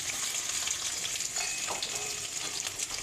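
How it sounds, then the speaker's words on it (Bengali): Onions frying in hot soybean oil with whole spices in a pan for mutton kacchi biryani, a steady dense sizzle with crackling pops and occasional stirring scrapes, close and continuous with no talk. "পেঁয়াজ ভাজা হয়ে আসছে"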